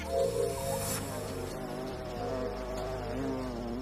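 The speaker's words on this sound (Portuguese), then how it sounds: "Quando o abelhão se adianta em direção à lobelia azul em busca de néctar" A bumblebee buzzes steadily close by as it moves toward a blue lobelia flower for nectar, its drone continuous over a soft musical background.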